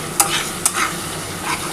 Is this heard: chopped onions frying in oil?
yes